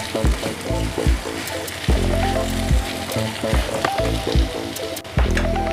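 Eggs fry in a pan over a medium gas flame, a loud steady sizzle broken by repeated stirring scrapes in bursts, close up with no talking.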